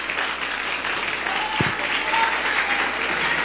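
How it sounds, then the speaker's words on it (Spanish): A church congregation applauds continuously, a dense wash of clapping from a crowd throughout, with a faint voice briefly audible underneath. "Démosle un aplauso al Señor"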